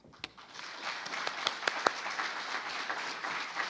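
A lecture-hall audience applauds as speaker Roland Paris is welcomed: moderate, steady clapping from a crowd with a few sharper individual claps standing out, heard alone without talk.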